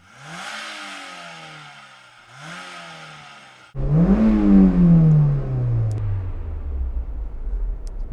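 A Mazda Roadster Mark III engine revs during a drag race setting, two rising rev blips from a distance followed by a loud, close roaring pull that sweeps up and then steadily falls away.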